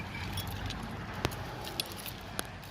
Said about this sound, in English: So if I get my keys